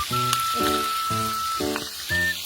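Giant octopus sizzling as it cooks in a pan, a close, steady frying crackle with recurring tonal bursts layered over it.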